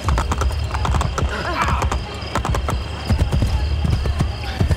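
Hoofbeats of a horse in Assassin's Creed Brotherhood, galloping up to its rider in clip-clop rhythm, with game ambience and other background sounds layered underneath throughout.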